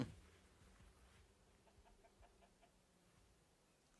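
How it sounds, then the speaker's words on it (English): A chicken in the survival game Miscreated clucks faintly and softly in a quiet, dim scene, with a few low, scattered clucks and no talking. "Another chicken."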